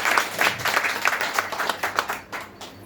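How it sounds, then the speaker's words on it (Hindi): A church congregation applauds loudly at a Hindi-language worship service, a brisk crowd of claps lasting about three seconds and thinning toward the end. "आइए हम वचन के लिए जोर से ताली बजाकर स्वागत करेंगे।"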